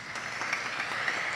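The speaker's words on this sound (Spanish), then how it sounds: "Nuestra gratitud expresada en un fuerte aplauso." Parish audience at a centenary solemnity for a beatified nun gives a steady round of applause, a dense, even patter of many hands at moderate loudness.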